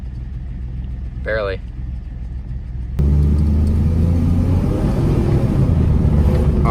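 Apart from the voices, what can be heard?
2006 Dodge Dakota engine misfiring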